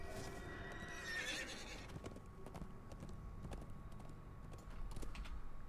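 A horse in Minecraft gives a short neigh near the start, then hoof clops and faint creaks follow at a low, quiet level.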